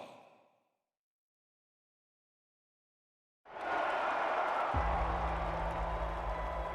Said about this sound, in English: Y'all cheering before you heard what this law is about.